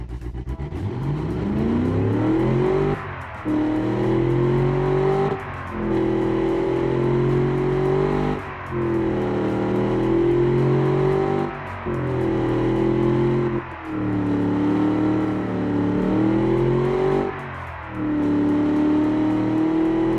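A 4.6L car engine with a 344-horsepower rating and 3-inch exhaust system revs loudly and steadily, rising and dipping through repeated throttle blips with brief gaps between pulls, close and without talk.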